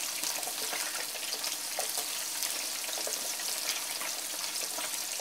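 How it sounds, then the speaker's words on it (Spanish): Large stuffed meatballs fry in a pan of oil over gentle heat, giving a steady, even sizzle with small pops, close and continuous with no talking. "Hemos echado nuestras almóndigas y las vamos a ir friendo con fuego no muy fuerte"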